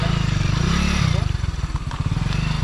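A motorbike rides along a road, its engine chugging in a loud, close, pulsing rhythm that shifts pitch slightly as it moves, with some rattling and road noise mixed in.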